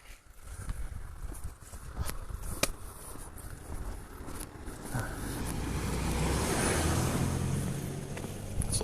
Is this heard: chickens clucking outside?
no